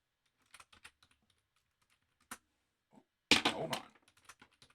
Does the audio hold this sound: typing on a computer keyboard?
yes